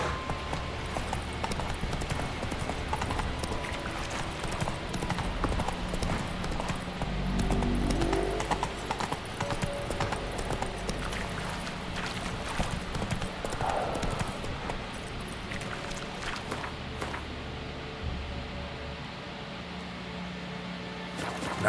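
Horse hooves clip-clop steadily in The Witcher 3 video game, a continuous trotting rhythm that stays fairly loud over game ambience and music for the whole stretch, with no one talking.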